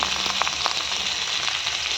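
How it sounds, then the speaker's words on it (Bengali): Rice grains and pistachios fry in a pan for pilaf, producing a loud, continuous close sizzle with faint crackles and soft stirring scrapes throughout. "এখন আমি চালগুলি দিয়ে দিব ভালো করে ভেজে নিলে"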